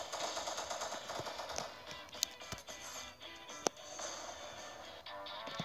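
Rapid video game gunfire rattles in fast repeated shots through a boss fight, a steady staccato chatter with a couple of sharper bangs standing out, fairly faint overall.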